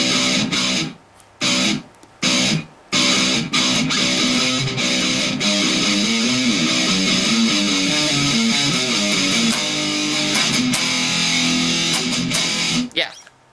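Distorted electric guitar works slowly through a full riff, opening with a few stop-start chord stabs before settling into a continuous, loud, sustained passage.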